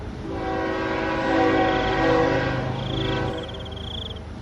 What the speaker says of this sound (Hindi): तभी सामने से अचानक रेल को आता देख